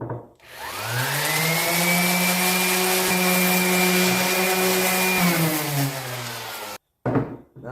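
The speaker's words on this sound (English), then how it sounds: "Now I'm going to sand that down with a sander." A power sander working cherry wood whirs up to a steady high whine, holds for several seconds, then winds down, loud and close, with a short clatter after it stops.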